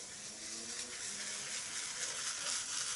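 A shaving brush with a large 26mm knot swirls over a James soap puck to load lather, giving a steady, close, wet frothy swishing that stays even and fairly quiet throughout, with no talk.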